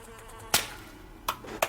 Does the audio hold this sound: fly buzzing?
yes